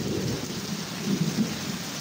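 A rain and thunder sound effect in an illustrated story, steady heavy rainfall with a low rolling rumble of thunder swelling midway, continuous and fairly loud, with no voices.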